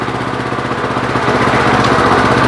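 A WEIMA WM1100C-6 walk-behind tractor with differential runs its engine close by, a loud steady chugging drone with rapid rhythmic pulsing and no voices.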